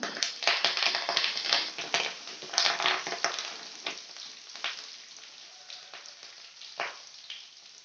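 Onions and leafy greens hitting a pan for a kodo millet vegetable pulao, giving a bright crackling fry with quick clicks and taps up close that gradually settle into a softer sizzle, with no voices.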